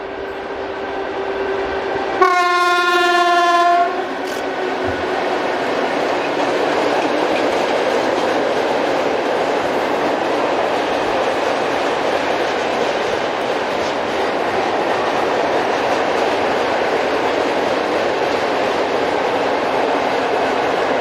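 A Class ET22 electric locomotive, number 063, hauls a freight train loaded with ballast, opening with a loud horn blast of about a second and a half, then a long, steady roar of wagons rolling past close by.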